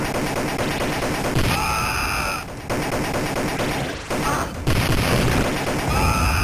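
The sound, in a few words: gunfire in Judge Dredd arcade video game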